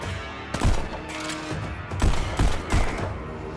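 Dual-wielded pistols fire in the VR game Pistol Whip, loud, sharp shots in quick irregular bursts with some nearly overlapping, over a continuous game soundtrack.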